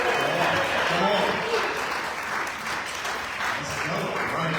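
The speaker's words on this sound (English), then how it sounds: "let's give it a round of applause." A room full of people applauds at a morning meeting, steady dense clapping that stays loud and continuous, with a few voices calling out faintly beneath it.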